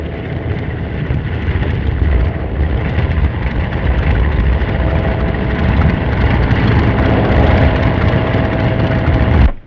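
A propeller airplane engine runs loud and steady throughout, a constant droning roar that holds close and cuts off abruptly at the end.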